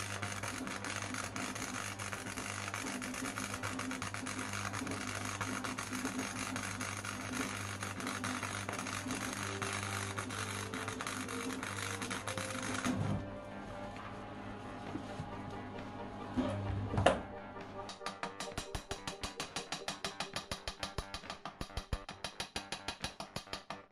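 MIG welding on steel boat windows, a close, continuous crackling buzz that breaks off, then resumes as a rapid run of sputtering pulses.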